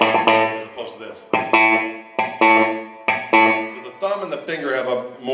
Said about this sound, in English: your pick, being held by your first finger and your thumb, is going to hit a note that's muted, but it's going to have a lot more of a metallic sound